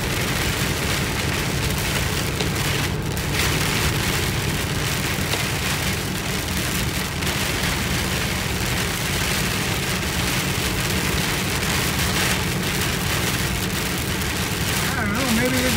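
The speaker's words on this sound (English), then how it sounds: "maybe this is just heavy rain" Heavy rain pounds steadily and loudly on a vehicle during a tornado storm, a dense continuous roar of drops with low rumbling underneath, while someone talks faintly under it.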